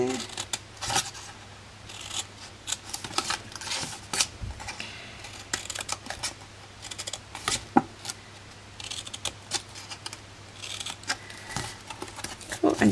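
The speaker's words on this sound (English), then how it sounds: "Cool, and just end up by snipping off here." Paper snipped with scissors while trimming a Stampin' Up gift box template, a run of short, crisp cuts close by in a quiet room, with occasional soft rubbing of paper between them.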